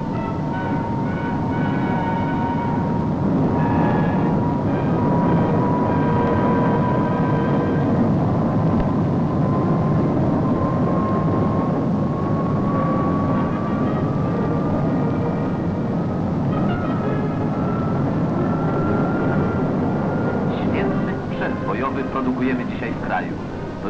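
Polish bomber and jet fighter squadrons take off from an airfield, a loud, continuous jet roar with a slowly rising whine that lasts throughout, with a voice speaking over it.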